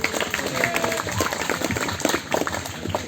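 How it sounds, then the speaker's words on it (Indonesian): Students at a school environmental event applaud four people, a steady patter of clapping from a group with some voices mixed in. "tepuk tangan untuk mereka berempat"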